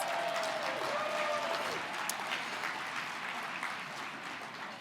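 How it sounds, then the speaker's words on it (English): Audience applause fills an award ceremony hall, steady dense clapping from a large crowd lasting throughout, fairly loud and even with no talk over it. "Let's give a round of applause."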